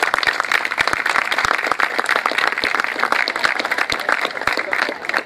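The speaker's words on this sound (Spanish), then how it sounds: "Un fuerte aplauso para ustedes y para los chicos de mantenimiento" Sustained applause from an audience honoring muralists and maintenance staff at an institutional event, dense steady clapping throughout at full volume.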